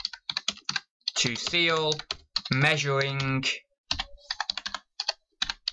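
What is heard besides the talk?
typing a condition note on a computer keyboard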